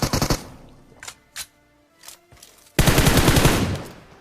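Gunfire in the mobile battle-royale game PUBG Mobile: a quick rapid burst, a few scattered single shots, then a loud sustained automatic volley near the close.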